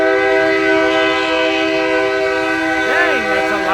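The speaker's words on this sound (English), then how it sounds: "Dang, that's a loud train." A loud train horn blares with a steady multi-tone chord close by in Hendersonville, Missouri, near Kansas City, held for several seconds with rumbling rail noise underneath and a brief voice near the end.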